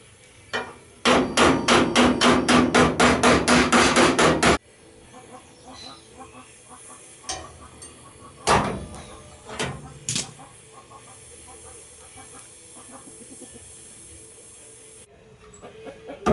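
Welding on a 1983 VW Kombi: a quick string of about a dozen loud, evenly spaced crackling bursts, then a quieter stretch of faint hiss with scattered metallic knocks and clanks nearby.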